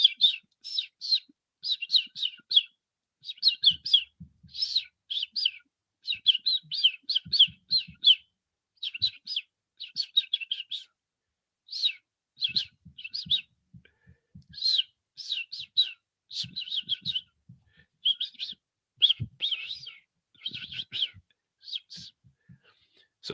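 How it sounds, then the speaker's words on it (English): A small bird chirps in short bursts of repeated high tweets, fairly close and steady across the stretch, with faint low rustling underneath and no talking. "look at the little bird."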